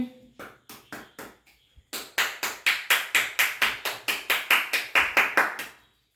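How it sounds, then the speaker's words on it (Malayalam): A few people clap for a child, first some scattered claps, then a close, steady, rhythmic round of applause that fades out at the end. "എല്ലാരും ക്ലാപ്പ് അടിച്ചാ അതിക്ക്."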